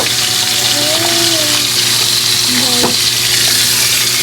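Food fries in a pan at home, a loud continuous sizzle and crackle close by, with faint tonal calls from the surroundings in the background.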